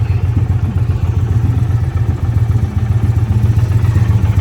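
A motorcycle engine runs steadily nearby at a party, a continuous low rumble with light clattering throughout and no voices.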